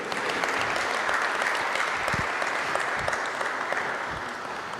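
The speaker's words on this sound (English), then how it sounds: "Let's give him a loud," A loud, sustained round of applause from an audience at an open day event for a speaker named Pepe, dense clapping continuing throughout with a few nearer claps standing out.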